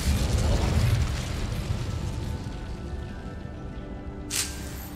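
Fire spell cast in the video game Hogwarts Legacy: a loud whooshing burst with a rumbling roar that slowly fades, followed by a short bright pop near the end.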